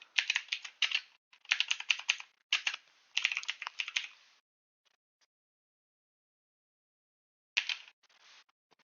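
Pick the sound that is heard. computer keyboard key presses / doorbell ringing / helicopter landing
computer keyboard key presses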